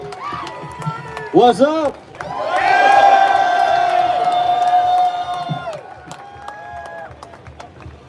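Crowd of Oakland baseball fans at FanFest, a swelling mass of cheers and whoops that peaks midway and then fades, with people talking close by before and after.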